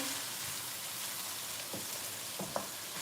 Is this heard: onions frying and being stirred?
yes